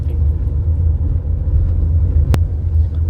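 A car moves steadily along a city lane with light traffic, its low engine rumble and road noise continuous throughout, with one sharp brief click or knock near the end.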